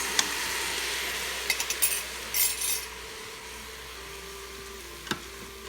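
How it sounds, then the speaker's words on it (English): Chinese sticky rice with sauce being stirred in an Instant Pot, soft scraping and rubbing strokes with a few brighter utensil scrapes against the pot, fairly quiet and close, no talking. "Keep stirring because you don't want the rice to start burning and stick to the bottom of the pot."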